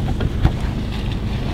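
Wind gusts buffet the microphone outdoors at night in a village, a loud, low rumbling roar with irregular bursts and no one speaking.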